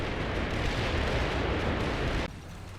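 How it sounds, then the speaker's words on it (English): A massive Soviet artillery barrage in the Combat Mission Cold War video game, a dense continuous roar of overlapping explosions that cuts off abruptly near the end, leaving a quieter rumble. "the Soviets, of course, are prepping the tree line with artillery fire. This is a gigantic barrage now."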